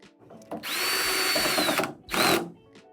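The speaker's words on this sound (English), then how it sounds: "if you use a drill, make sure you have one with a clutch so you don't strip out the screws" A power drill driving screws whirs in two bursts, a long run followed by a shorter one, close up and fairly loud with brief pauses between.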